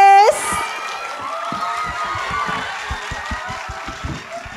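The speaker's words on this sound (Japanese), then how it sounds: "拍手でお迎えください" An audience at a Disney 100 film festival opening event claps to welcome a guest onto the stage, a dense steady wash of applause with music playing underneath after a brief opening tone.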